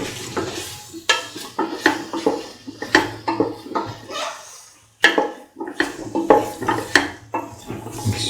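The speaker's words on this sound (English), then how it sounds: "Mix thoroughly." Garlic potato rice with garam masala spices being stirred in a pan, a spoon scraping and clacking against the metal in repeated strokes with a faint sizzle underneath, close and fairly loud.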